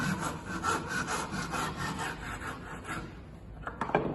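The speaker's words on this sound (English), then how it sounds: "I'm going to cut diagonally, finger out again, cut very carefully down the line" A hand saw cuts diagonally through wood down a shoulder line, the piece clamped in a vise, with steady close rasping back-and-forth strokes in a regular rhythm.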